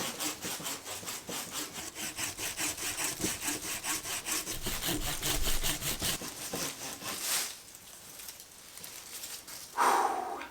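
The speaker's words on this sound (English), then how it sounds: "I'm not messing around, I'm just cutting this thing off." A handsaw cuts through the trunk of a hornbeam bonsai in steady, rapid back-and-forth strokes, close and loud for about seven seconds. Quieter rasping and a short, sharp crack follow at the end.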